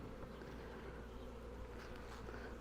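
A honeybee swarm buzzes around hive frames of used comb, a dense, continuous, fairly faint drone with no talk.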